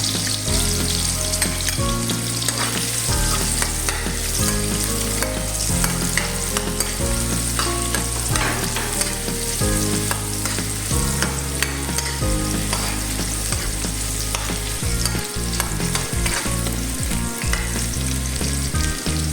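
Garlic sautés in a pan for squid with eggplant, a broad sizzle with stirring sounds running continuously under loud rhythmic music that plays throughout.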